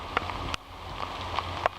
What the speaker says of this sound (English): for now let's just enjoy the rain.